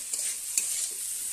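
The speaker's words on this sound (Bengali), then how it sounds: "একটু নেড়ে নিলাম, হয়ে এসছে আমার প্রায়" Winter vegetables cook in a pan and get a quick stir, a steady hiss of frying with a single scrape of the spatula midway, heard alone.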